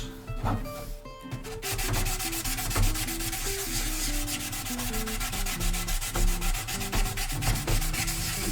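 Close, continuous sanding of a large plastic scale model by hand, a steady abrasive rasp with quick rhythmic back-and-forth strokes throughout.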